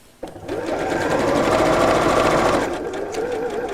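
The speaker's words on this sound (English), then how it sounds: "So I'm literally just sewing around my drawn line because this is going to be the hole." A sewing machine runs in one continuous close burst, stitching around a drawn line on fabric for a tissue box cover. The motor whirs steadily for a few seconds and then winds down, heard alone.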